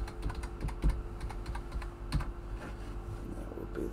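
Rapid clicking of keys as a password is typed on a computer keyboard, a close steady patter of taps with a few heavier key strikes, over a faint low hum.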